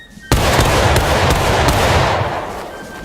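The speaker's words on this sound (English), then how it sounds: "That's a woeful volley if I ever heard one." Rifle volley fired by a front rank of soldiers on command: a single sudden loud crack followed by a ragged, rolling burst of overlapping shots and a long decaying echo.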